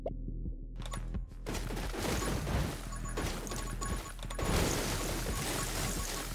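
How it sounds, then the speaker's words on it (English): Dense, chaotic bursts of crackling explosions and impacts in the survival shooter game 10 Minutes Till Dawn, a loud continuous barrage of blasts layered over game sounds with no voices. "Yes, a lot of exploding."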